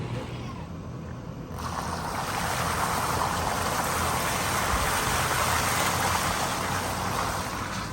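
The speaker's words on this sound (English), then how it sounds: "There's so much rain on the window." Heavy storm rain drums steadily on a camper window, a dense broadband hiss that swells louder after the first second and a half and holds constant, with no speech heard.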